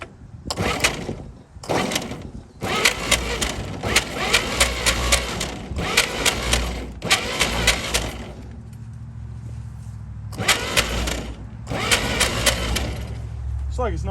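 A 1937 Chevy truck engine, long unrun, cranks on its starter in repeated bursts of grinding, rhythmic churning, separated by short pauses, loud and close without catching; a voice speaks briefly between attempts.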